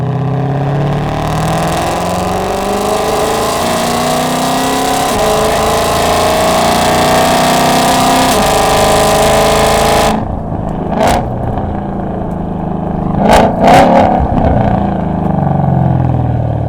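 A 2020 Ford GT500 fitted with a Lethal track exhaust and resonator delete accelerates hard, a loud sustained roaring engine note rising through the revs, then cutting off sharply with brief gear-change barks and a settling rumble.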